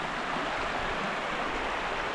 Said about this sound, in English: The water's coming down at a nice pace.